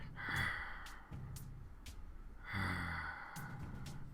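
A player in a tabletop role-playing game imitates heavy breathing behind a door with his voice, two long drawn breaths separated by short sharp inhales, close and fairly quiet.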